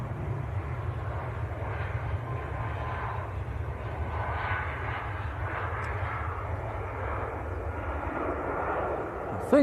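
A British Airways airliner departs Manchester Airport bound for Heathrow, a low, steady engine drone holding at moderate distance throughout, with faint voices in the background.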